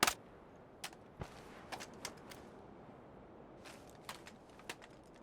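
Distant gunfire in PUBG: a handful of sharp, faint cracks spaced irregularly over a quiet background, one louder snap at the start.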